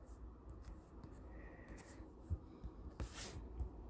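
Soft, close scratching of a pen writing by hand on paper, steady faint strokes with a few small taps, quiet and alone without talking.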